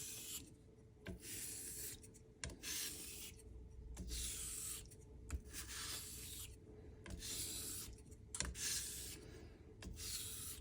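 A straight razor with a small chip in the toe is honed on a stone, giving steady rhythmic scraping strokes that repeat back and forth, close and fairly loud, with no voices.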